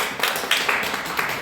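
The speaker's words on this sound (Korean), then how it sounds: "우리 하나님께 영광 박수하겠습니다." A church congregation claps in a brief burst of several quick, uneven claps, fairly close and moderately loud.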